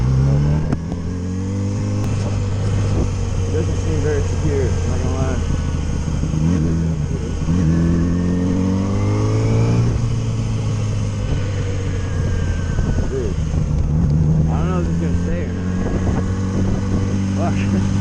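A rebuilt Yamaha R6 sport motorcycle engine runs with a steady, loud droning hum throughout, mixed with wind buffeting and a voice talking over it.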